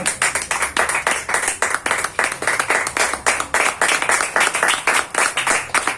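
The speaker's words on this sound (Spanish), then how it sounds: "aplauso al Señor." Church congregation claps in a steady, rhythmic beat during worship, loud and close, with regular strong pulses continuing throughout and no talking over it.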